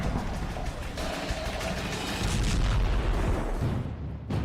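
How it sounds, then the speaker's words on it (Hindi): M982 Excalibur 155 mm artillery shell with a 22 kg warhead exploding: dense, noisy rumble and crackle sustained for several seconds, swelling midway, then a sharp burst near the end. "जब 22 किलो के वॉरहेड में धमाका होता है तो देखिए कितनी बड़ी तबाही होती है।"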